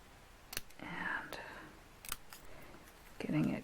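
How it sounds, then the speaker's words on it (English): A few close, crisp snips of small fussy-cutting scissors cutting through paper, separated by short pauses, with soft voice-like sounds between them. "So I'm just using my fussy cutting scissors"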